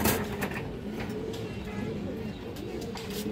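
A silver-necked female pigeon, one of several pigeons kept together, gives low, soft, repeated cooing close by. A faint background voice runs under the coos.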